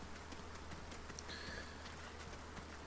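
Steady rain falls in the Resident Evil 4 Remake game world, a soft, even patter on surfaces that continues faintly and uniformly throughout.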